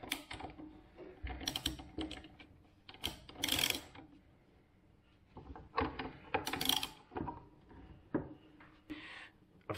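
A ratchet being worked to tighten a Lambretta silent block tool, with bursts of quick metallic clicking and rattling in uneven spurts, close up and moderately loud with pauses between strokes.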